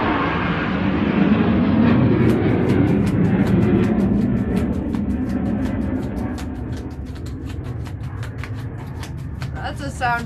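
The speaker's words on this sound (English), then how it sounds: "That's a sound I don't hear at my place very often. Low flying planes." A low-flying airplane passes overhead with a loud, broad roar that slowly fades, while rhythmic clicking taps sound faintly through the second half.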